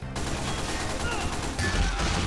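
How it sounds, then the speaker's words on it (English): Rapid bursts of gunfire from the video game Team Fortress 2 Classic, a dense and loud barrage of critical-hit shots that continues for the whole stretch with a slight jump in intensity near the end. "That was a random crit."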